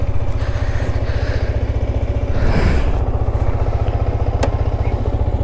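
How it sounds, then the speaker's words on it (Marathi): A motorcycle engine idles steadily with a rapid, even thumping pulse, close by, with a brief swell in the middle. "थोड़ा सा बाइक को वार्म अप कर लेते हैं"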